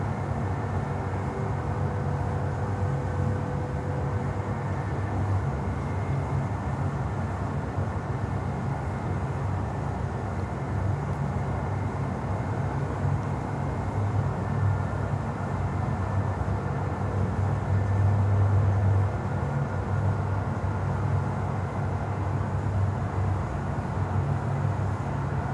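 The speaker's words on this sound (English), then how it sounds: "we see here Emirates taxiing out and getting ready for their flight to Bogota" Emirates airliner taxiing out at Miami airport, a steady low engine rumble and broadband roar lasting throughout with no talk.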